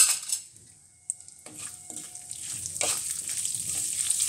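Whole spices (kalonji, fenugreek seeds and two dried red chillies) frying in hot mustard oil, a steady bright sizzle that builds and holds, with a few soft clinks of a spoon or pan near the start.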